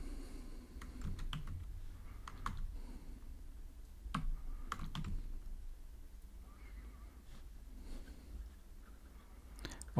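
Code being typed on a computer keyboard, with quiet, irregular runs of clicky keystrokes broken by short pauses, close and soft, no talking.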